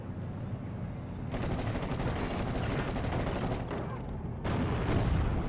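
Gunfire in a Steel Division 44 battle, with a 17-pounder anti-tank gun firing on a Panzer IV: dense, continuous rattling shots rolling over a heavy low rumble, with a sharper loud burst near the end.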